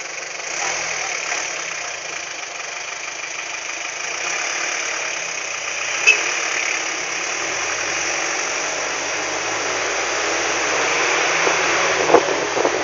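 A car engine idles in slow traffic on a long drive home from work, a steady mid-pitched rumble under broad road and cabin noise with a couple of faint clicks, no voices.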